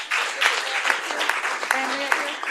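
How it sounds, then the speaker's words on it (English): Council chamber applause for a girls' track team and their coaches, a lively spread of clapping with distinct sharp hand claps on top and a voice speaking briefly beneath it. "let's give our ladies, track stars, a round of applause, and the coaches"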